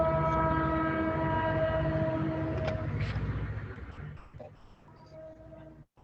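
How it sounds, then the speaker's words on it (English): A train passes with a loud, sustained horn and rumbling rail noise that fade steadily into the distance. Faint voices can be heard under it. "Is that a train?"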